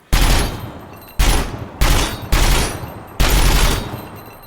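Full-auto gunfire from a weapon in Gunsmith Simulator, five loud sustained bursts back to back with brief gaps, each a dense rattling roar that fills the clip, no voices.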